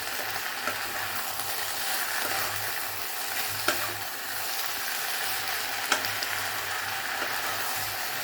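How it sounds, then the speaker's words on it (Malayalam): Tomatoes sautéing in a pan for an okra (lady's finger) masala curry, a steady close sizzle with occasional scrapes and taps of a stirring spoon, no voices. "ടൊമാറ്റോയും കൂടി ഇട്ട് നല്ലവണ്ണം വഴറ്റുക."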